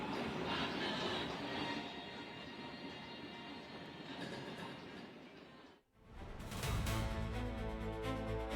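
A train runs on the newly relaunched Gilgil–Nyahururu meter-gauge railway of Kenya Railways, a loud, close rumble that briefly dips, then comes back with brighter rattling and wheel noise.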